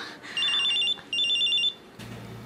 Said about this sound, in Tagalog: Oh, cellphone ko.